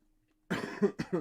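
A single close cough breaks out of near silence, a short harsh burst followed by a couple of quicker rough coughs, alone without talk.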